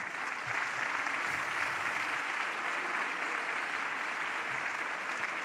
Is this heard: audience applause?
yes